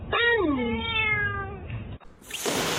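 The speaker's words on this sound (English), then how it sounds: "You silly kitty." Kitten meowing up close, one long drawn-out plaintive meow that slides downward, followed by a short rustle and a brief breathy noise.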